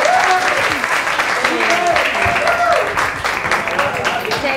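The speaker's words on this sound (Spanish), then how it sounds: "Un fuerte aplauso para Laurín." Loud, dense applause from a school show audience, with voices and cheering rising over the clapping throughout and no break.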